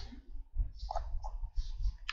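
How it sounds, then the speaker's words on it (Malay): Soft clicks of a computer keyboard's delete key being pressed, a few light close taps over low background rumble, with no voices. "Button delete dekat keyboard tu, tekan delete."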